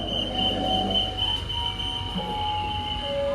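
KA Harina economy-class train standing at a station on the Surabaya–Bandung line, with a steady loud rumble, a sustained high electrical whine and faint brake or machinery tones, and no talk.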